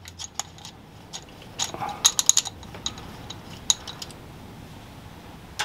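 A 10mm bolt on the spindle of a Warco milling machine is undone with a wrench, producing scattered sharp metallic ratchet clicks and light clinks, nearby and fairly quiet, with no voices.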